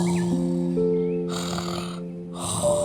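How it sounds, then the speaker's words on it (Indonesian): A hibernating bear snoring loudly in an animated story, two long rasping snore bursts that rise and fade over a sustained musical tone. "masih tidur dan mendengkur keras"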